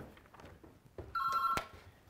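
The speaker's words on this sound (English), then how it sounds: "I'll just answer this phone, as it's going to ring for ages" A telephone rings once in a short, bright electronic trill that stops with a sharp click, faint room noise and a few soft footsteps around it.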